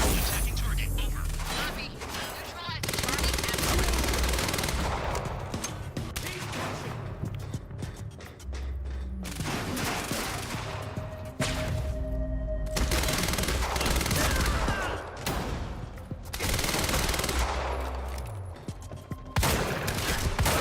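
SMG fire and chaotic combat in the video game Quantum Break, with dense bursts of shots and impacts running throughout, while a voice talks over the action.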